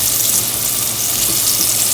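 Pork chops frying in a pan for smothered pork chops give a steady, dense sizzle throughout, loud and close, with no talking.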